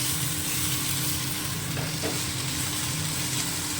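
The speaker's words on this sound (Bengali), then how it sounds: "এবার আর একটু ভাজা ভাজা করবো পোস্তটাও ভাজা হবে একসঙ্গে" Okra and potato frying in oil with poppy seeds, a steady dense sizzle with faint stirring scrapes, close and continuous with no talking.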